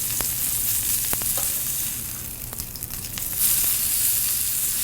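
Steak searing in a pan with a steady, close sizzle and crackle throughout, a few sharper pops standing out, no voices.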